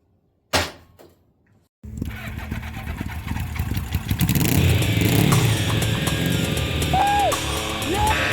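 A Yamaha YZ465 double-engine motorcycle, spark plug removed, is kicked over, first one sharp thump, then a sustained rough mechanical churning that grows louder and continues steadily, close by.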